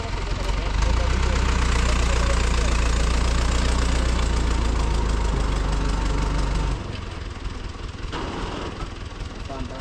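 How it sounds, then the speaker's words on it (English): A tractor bringing a load of material runs nearby with a loud, knocking diesel engine rumble that holds steady, then drops to a quieter idle, with people talking over it. "so the tractor is coming right now with material, full force."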